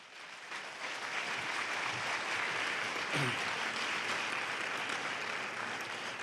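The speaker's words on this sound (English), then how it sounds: "let's give a round of warm applause for Mr. Klaus Dona" Warm audience applause at a convention talk fills the room as a steady, distant wash of clapping, fairly faint overall and sustained without a break.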